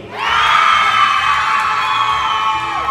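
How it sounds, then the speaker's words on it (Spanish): An audience at a live comedy show erupts in loud, sustained cheering and shouting, with high children's voices whooping together in a bright, continuous roar that holds nearly level before tapering off at the end. "Y fuerte el aplauso para Eric"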